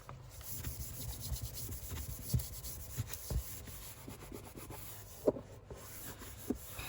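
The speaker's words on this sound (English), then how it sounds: "Burnish it down." A paper pamphlet is burnished down by hand for a junk-mail folio craft: soft, close dry rubbing strokes with a few light taps, quiet and continuous with no talking.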